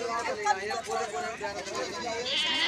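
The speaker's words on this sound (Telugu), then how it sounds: "ఈరోజు అయితే మేకలు కేశంపేట మార్కెట్లో మేకలు బాగానే వచ్చినాయి" Goats bleat repeatedly at a busy weekly goat market in Keshampet, several overlapping calls close by amid crowd noise and nearby talk.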